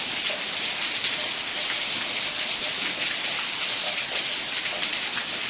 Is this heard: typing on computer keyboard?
no